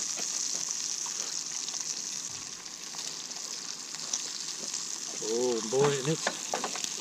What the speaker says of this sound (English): so it cooks up bacon just nicely